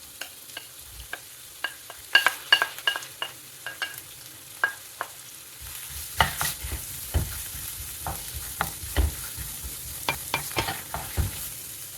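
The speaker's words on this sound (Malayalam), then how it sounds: "ചെറുതാക്കി എരിഞ്ഞത് ചേർത്ത് കൊടുക്കാം." Chopped onion, a quarter of a large one, sizzles and fries in oil in a pan, a steady crackle under sharp scraping stirs that grow louder and busier as it goes on.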